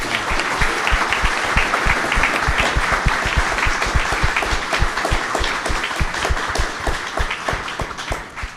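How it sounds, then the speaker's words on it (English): An audience at a cybersecurity forum gives panelists a loud, sustained round of applause, dense clapping from many hands continuing steadily for several seconds without speech. "Everyone, please join me in a large round of applause for our panelists."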